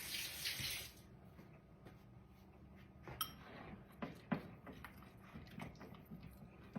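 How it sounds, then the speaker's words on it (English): Water gushes from a kitchen sink tap in a loud, close burst that stops after about a second, followed by quieter clinks and knocks of dishes in the sink. "Put that in the sink."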